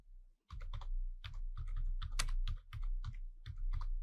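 Keys clatter on a computer keyboard in quick, uneven bursts of close, crisp taps with short pauses, no talking.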